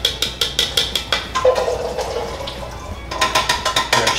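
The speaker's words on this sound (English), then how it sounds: "I'm rinsing them out, the chickpeas." Tap water runs over canned chickpeas in a bowl as they are rinsed, giving a steady splashing rush with faint rhythmic patters at the start and end.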